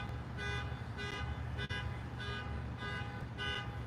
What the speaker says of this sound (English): the car alarms